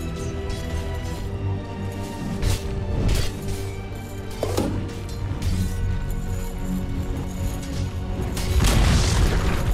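Repeated heavy impacts and crashing booms as a tower is attacked and destroyed in Dota 2, several thuds spread over the stretch amid dense battle noise, ending in a louder crumbling burst.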